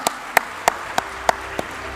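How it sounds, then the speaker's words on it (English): Six isolated handclaps spaced evenly about a third of a second apart, sharp and moderately loud against a quiet room background. "Let's have a round of applause"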